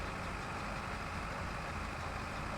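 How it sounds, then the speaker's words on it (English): A tractor picking up swathed grass in a field, with a steady, broad engine drone that stays constant and fairly loud throughout, no voices. "so the tractor goes faster."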